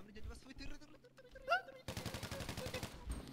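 Automatic gunfire in a shooting video game, a rapid rhythmic burst of shots starting abruptly partway through after quieter voices and game sounds, fairly loud and steady to the end.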